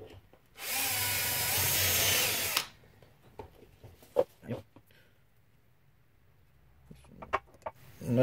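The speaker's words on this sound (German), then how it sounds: "So, schleifen wir mal ein bisschen was ab, machen es ein bisschen glatter." Power grinding on the lower guide bed of a 7 x 14 mini metal lathe: one loud, steady burst of about two seconds, followed by scattered clicks and knocks of handling.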